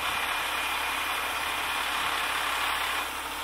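A recovery truck's engine runs in a steady, continuous drone while raising its boom to lift a forklift, heard at a constant level throughout with no breaks.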